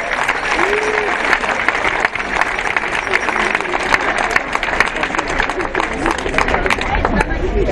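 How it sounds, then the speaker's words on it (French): A crowd at a street protest against the health pass in Auxerre breaks into sustained applause to thank their escort, dense clapping that fills the outdoor space, with scattered voices and a brief call rising above it. "j'aimerais qu'on les applaudisse s'il vous plaît"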